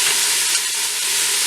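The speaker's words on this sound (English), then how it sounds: "So, just give that a stir. Saute it up a little bit." Pasta sauce sautés in a pan with a loud, dense sizzling hiss and soft stirring scrapes, close and continuous.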